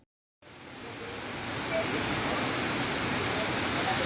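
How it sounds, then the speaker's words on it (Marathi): Water pours down the spillway of Suki dam, a dense continuous roar that starts abruptly after a moment of silence and holds steady and loud throughout. "हा धरणाचा सांडवा आहे। सर्वांचं पाणी खाली येतं।"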